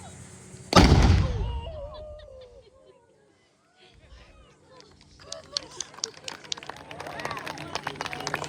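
A single loud cannon blast booms at the start and fades out, followed by murmuring voices and birds chirping in the background.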